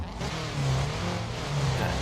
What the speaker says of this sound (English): The engine sounds definitely nice.